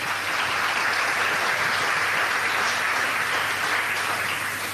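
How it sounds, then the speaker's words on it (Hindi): A seated audience at a question-and-answer talk gives sustained applause, an even, moderately loud mass of clapping that holds steady throughout with no speech. "सो प्लीज़ जोरदार तालियां दीजिए रवीन जी को"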